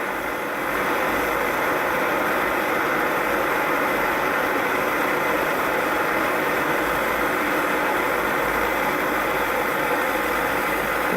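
An old stove's compact gas burner runs on high, producing a steady, loud broadband roar and hiss that holds constant from start to end with no voices.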